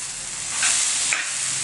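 Bottle gourd halwa stirred in a pan over a high flame: a constant hiss of sizzling with two soft swells as the spoon scrapes through the mixture, close and steady, with no voice.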